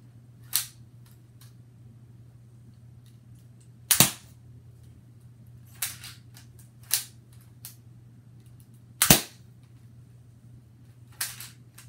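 Lego M416 toy gun firing, six or so sharp isolated snapping clicks spaced a second or two apart over a low steady hum, close and alone.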